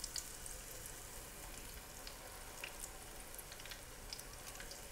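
Dahi bhalla batter frying in hot oil gives a steady, quiet sizzle with faint crackles and pops scattered throughout, and no voices.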